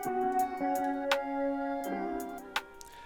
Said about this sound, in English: The flute sounds like this